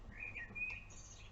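A blackbird gives a brief, faint, whistled phrase outdoors in nature, a short fluted chirp rising and falling, alone against quiet background with no voices.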